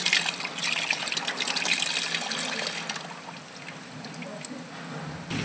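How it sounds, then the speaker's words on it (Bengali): Tap water runs and splashes steadily in a home kitchen sink while rohu fish pieces are rinsed, a close, continuous gushing trickle that eases slightly toward the end. "এখন রুই মাছ ধোবো, ধুয়ে মায়ের জন্য পাতলা করে ঝোল করব।"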